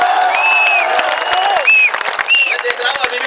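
Audience at a college kavi sammelan poetry recital clapping and cheering steadily throughout, a loud crowd roar with scattered whoops and shouts.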